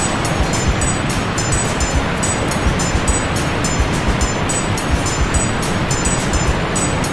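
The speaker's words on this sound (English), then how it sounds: "Here comes the rollers." Car wash rollers pass over a car in a dense, continuous rushing roar with a fast rhythmic flutter of brush strips slapping the body, close and loud from inside, with no talking.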